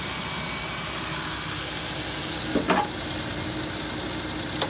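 A 2006 Chevy Equinox LT engine idles with a low, quiet, even hum, close by, with a couple of faint brief knocks or clicks and no talk.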